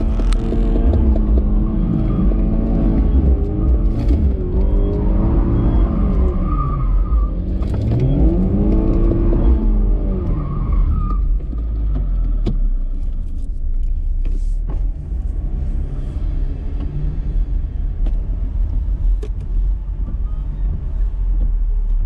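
Car spinning donuts, the engine revving hard and loud in repeated rising and falling sweeps over heavy wind buffeting, close to the microphone, with the tires' rotation cycling through the sound.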